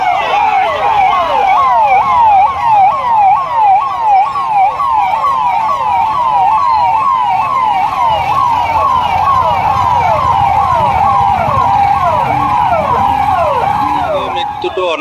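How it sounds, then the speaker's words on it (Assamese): Many ambulance sirens wail loudly and continuously, overlapping in fast repeating sweeps, during an ambulance rally of over forty vehicles at Dhing Gate in Nagaon town. "উক্ত ৰেলীত 40খনতকৈও অধিক এম্বুলেন্সে অংশগ্ৰহণ কৰে।"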